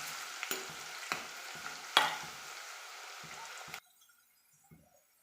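Green chilies, crushed ginger and garlic sauté in a pan for a fish curry, a steady close sizzle with several sharp spoon knocks and scrapes as they are stirred, cutting off abruptly near the end.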